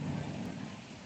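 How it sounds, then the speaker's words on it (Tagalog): Steady rain pours outdoors with a broad continuous wash and a low rumble throughout, loud and close, with no one talking. "Inabot tayo ng ulan."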